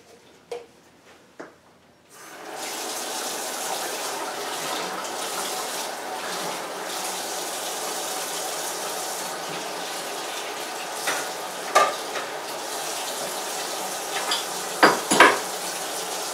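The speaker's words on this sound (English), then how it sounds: "I'm going to rinse off the outside and the inside of the film developing, or the developer measuring graduate" Running water pours steadily from a tap over a plastic film developer measuring graduate being rinsed inside and out, with a few sharp clinks and knocks of the container near the end.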